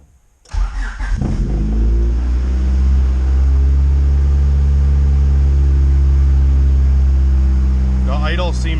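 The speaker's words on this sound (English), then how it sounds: "The idle seems like it's idling higher and smoother, but it is coming down now." Honda CRX with a B20V engine cranks and catches, then settles into a loud, steady, slightly high idle with a smooth constant hum; a voice briefly talks right at the end.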